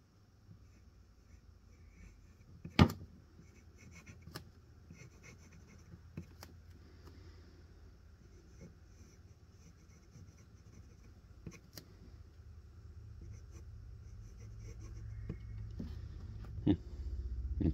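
A Micarta pen with a Zoom Nib writes on paper close up, a soft, faint scratching with a few sharper taps and a low background hum that slowly grows louder.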